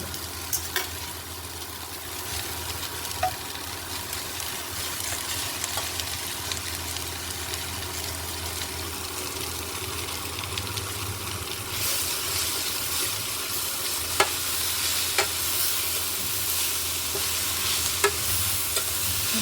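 Spinach (palak) fries and gets stirred with already-fried onions in a pan, a steady close sizzle broken by scraping stirs and a few sharp clicks, no voices.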